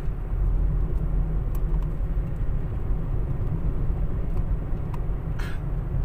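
A car rolls fast in neutral down the road through Wadi Jinn in Saudi Arabia, giving a steady, loud rumble of tyre and wind noise that holds throughout with no engine revving.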